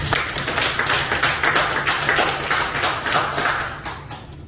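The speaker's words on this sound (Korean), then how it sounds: "우리 오래간만에 하나님께 영광의 박수 올려드리시죠." A church congregation claps together in praise to God, a fast, even patter of many hands that holds steady and slowly thins out toward the end.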